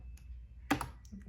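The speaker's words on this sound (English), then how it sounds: "You can see my typing." A few keys clack on a full-sized ergonomic wireless keyboard: one sharp close keystroke with a quick follow-up click in an otherwise quiet room.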